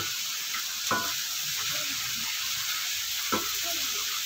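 Vegetables frying in a pan, a continuous loud sizzle close by with two brief stirring scrapes.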